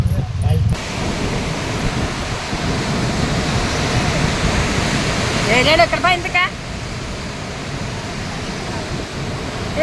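Loud, continuous rushing water roars throughout at a full dam, broad and turbulent, with a brief voice cutting through near the middle.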